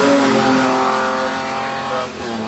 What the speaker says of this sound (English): To the top is Mike Cocaine with the Healey 3000.